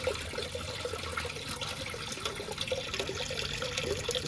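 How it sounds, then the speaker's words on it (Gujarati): Tap water pours steadily into the tank of an air cooler, making a continuous splashing, gurgling rush that stays constant and fairly close, with no talking. "અત્યારે જો આ કુલર માં પાણી ભરવાનું પ્રોસેસ ચાલુ અંદર પાણી ભરાય છે"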